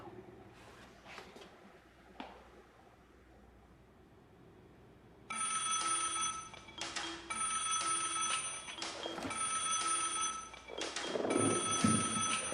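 After a few quiet seconds, a telephone bell starts ringing in repeated bursts with brief gaps, loud and close, continuing to the end.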